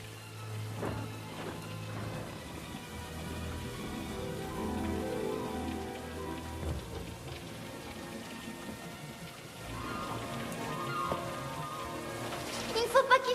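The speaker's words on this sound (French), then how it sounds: "Il ne faut pas qu'il sorte sous cette pluie." Steady rain falls in a film scene, a dense, even patter of drops on surfaces that continues throughout, with occasional heavier splashes and a faint low rumble beneath.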